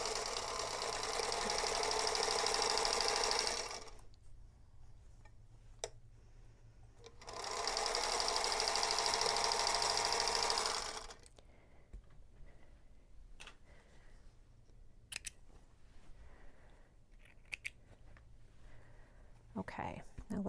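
Sewing machine stitching pieced fabric triangles for a quilt block, two steady whirring bursts of several seconds each, followed by quieter clicks and handling.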